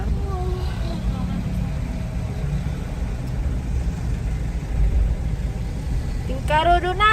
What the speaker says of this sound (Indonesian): macet sekali jalan ini pemirsa